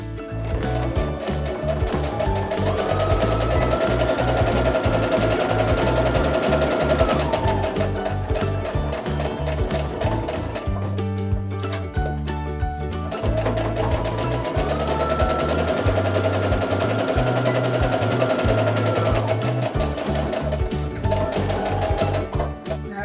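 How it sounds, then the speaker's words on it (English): Sewing machine stitches a quilt block seam in two long, steady runs of loud, continuous mechanical whirring, with a brief pause between them and no talking. "I'm gonna sew just to the right of where that seam comes together"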